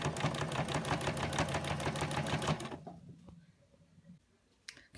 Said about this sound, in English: And then I'm going to sew completely around it,